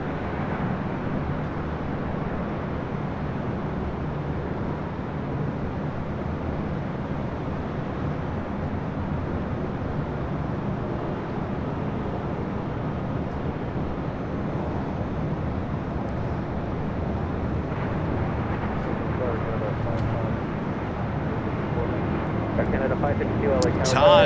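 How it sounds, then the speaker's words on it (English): A Cathay Pacific Boeing 777-300ER rolls down runway 25 right at LAX, a broad steady distant jet roar that swells slightly toward the end, with speech over it. "Do have Cathay Pacific, the 777-300ER now rolling down at 25 right."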